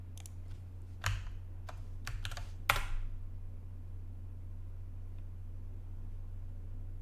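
Computer keyboard keys clicking in a few quick bursts during password entry, over a steady low electrical hum, then falling quiet.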